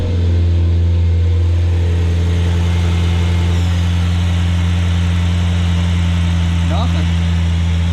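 A fire-damaged replica "Ferrari" car idles just after starting, a loud, steady, deep engine hum with a constant low rumble throughout.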